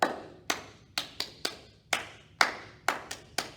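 Children at a library storytime clap their hands in a loose, uneven rhythm of about ten sharp claps, each separate and fairly close, with quiet gaps between and no talk over them.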